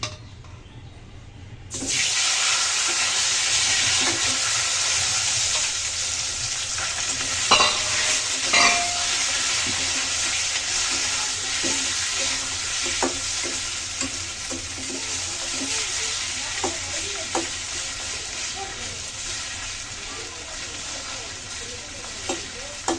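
Tengra fish frying in hot oil seasoned with turmeric in a kadai: after a quiet moment, a loud, steady sizzle starts and carries on, punctuated by scattered clinks and scrapes of stirring.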